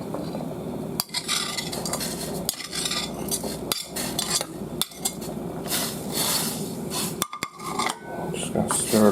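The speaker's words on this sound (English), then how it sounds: "Just going to stir it up a little bit." Sliced steak being stirred in a pot for steak ramen, with a utensil scraping and clattering against the metal in steady, busy strokes and a few sharper knocks, close and fairly loud throughout.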